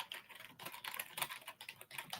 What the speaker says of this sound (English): Look at you typing away.